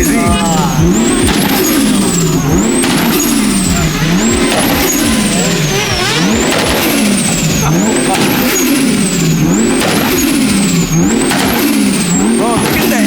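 A Toyota 2JZ engine revs hard and repeatedly at a BMW car meet turned street takeover, giving loud, close, rising-and-falling wails in a steady rhythm, with people talking and shouting over it.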